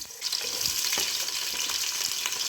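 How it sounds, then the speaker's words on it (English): Onions frying in heated oil in a pot for a mutton stew, a steady bright sizzle with a few stirring clicks and pops throughout, close and continuous with no voices. "I want to fry my onions and all first."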